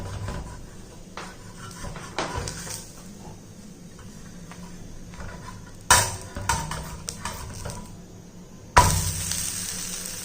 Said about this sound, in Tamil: தோசை கரண்டியை வச்சு லைட்டாக பரட்டி போட்டுக்குருவோம்.